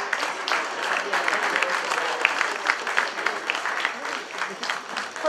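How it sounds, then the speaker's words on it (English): Audience applause fills an awards ceremony hall for small business honorees, a steady dense wash of many hands clapping throughout, fairly loud and continuous with no talk over it. "Round of applause, ladies and gentlemen."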